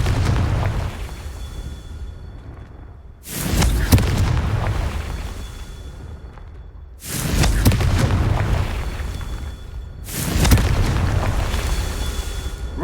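Confringo spell blasts in a Harry Potter video game go off as three loud, booming explosions spaced a few seconds apart, each one followed by a decaying rumble.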